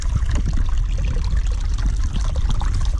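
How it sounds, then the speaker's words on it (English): Water trickles and splashes over a stick in a small stream, forming a little waterfall, with a steady close babbling flow and no talk. "Sometimes you can get lucky and get a little, start like a little waterfall or something."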